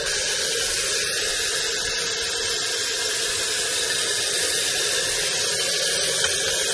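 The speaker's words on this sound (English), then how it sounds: "Faucet's working great." Water runs steadily from a newly installed faucet in a 1995 mobile home guest bathroom, a constant close splashing hiss with no talk.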